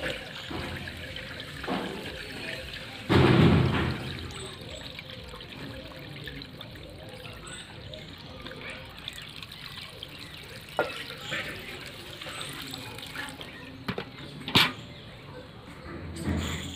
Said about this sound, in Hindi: ये देखिए फर्टिलाइजर को मैं इस तरह से बने हुए दूसरी बाल्टी में छान रही है।